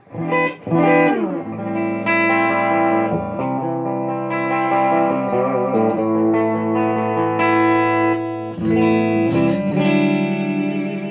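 Electric guitar played through a CAM850Mii amp's clean channel: strummed chords ringing out and sustaining over about eleven seconds, with a few fresh attacks along the way, close and full with no talking.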